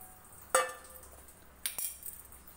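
Spoon clinking against a bowl while curd is mixed, two sharp metallic chinks with a short scrape between them, close and fairly quiet with no talking.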